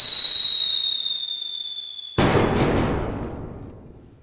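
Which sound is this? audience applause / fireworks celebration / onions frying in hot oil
fireworks celebration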